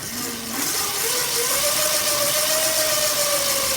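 A DIY electric chopper pipe bike's motor is spun up with the throttle, a close steady hum whose whine climbs in pitch over the first second and a half, then holds high.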